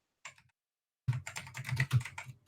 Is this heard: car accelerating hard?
no